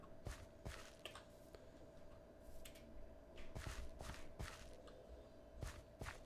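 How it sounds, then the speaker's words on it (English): Neighbours stomping around on the other side of a wall, heard as faint, irregular muffled thuds and footfalls scattered over a low background hum. "Noisy neighbors just stomping around."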